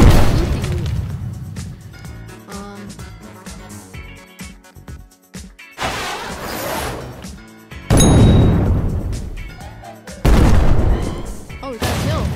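Enemy tanks fire in the Tank Heroes video game, with repeated loud booming cannon shots and metallic clangs in bursts over a busy game soundtrack, and a player briefly speaks.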